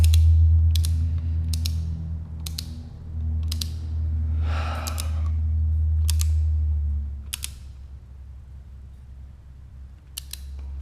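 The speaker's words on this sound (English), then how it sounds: "It's literally twisting the bolt." A valley cover bolt on a Porsche 944 engine undergoing an LS swap is twisted with a tool, giving a series of sharp, evenly spaced clicks and creaks over a steady low hum.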